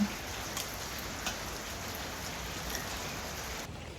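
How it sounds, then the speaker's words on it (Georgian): Steady rain hissing across the whole clip, a dense even wash of drops with a few slightly louder patters, no voices. "წვიმს."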